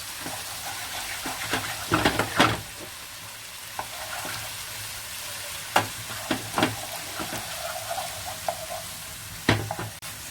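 Paneer in a hot pan for achari paneer, sizzling steadily while it is tossed and stirred, with a few loud scraping clatters from the pan and spatula now and then and no talking.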